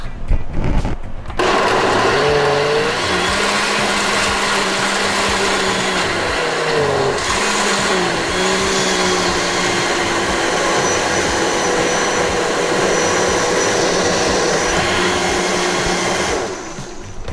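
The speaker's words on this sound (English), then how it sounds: "I've got everything in the blender" After a short rustle, a blender whirs loudly and steadily for a long stretch blending ingredients for albondigas meatball soup, its motor pitch dipping and shifting now and then before cutting off.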